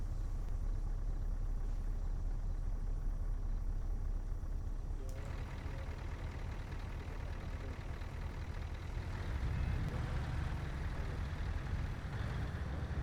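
Military trucks rumble along in a combat video game, a steady low engine drone that stays loud throughout, with a voice speaking faintly over it.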